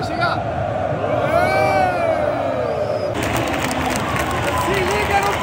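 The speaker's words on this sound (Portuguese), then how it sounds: "Se liga no tanto de aplauso pro William, moleque" A large stadium crowd at Arena Corinthians roars and cheers for the player William during the Corinthians versus Boca Juniors match, a dense, continuous wall of noise with voices shouting over it.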